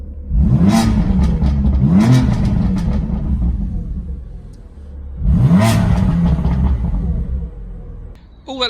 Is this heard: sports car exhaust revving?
yes